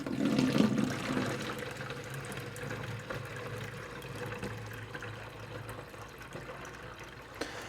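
Used stop bath for home black-and-white film developing poured back into its container for reuse, a steady close splashing and gurgling trickle that tapers off toward the end.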